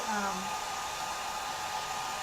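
A hair dryer blows steadily and loudly at close range, drying glue on a chalk craft canvas project; a continuous whooshing roar with no talk over it.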